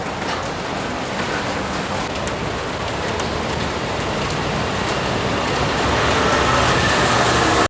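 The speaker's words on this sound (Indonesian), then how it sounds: "Kita hujan-hujan, bawa payung." Steady rain pours onto a wet street in Taiwan, a dense, even hiss that holds throughout and swells slightly toward the end, with no voices.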